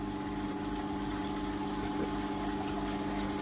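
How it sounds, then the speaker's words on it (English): Water churning and sloshing as stones are pushed into a crab aquarium with a pump running, a steady, continuous wash of liquid noise close by with no talking. "As you push things in like that, you push the water up, you see?"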